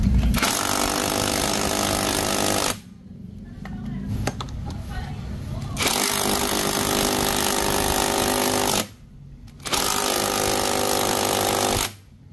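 An impact wrench hammers at a stubborn magneto lock nut on a 125 cc carbureted motorcycle engine, loud and close in long rattling bursts separated by short pauses while a workshop hum continues underneath.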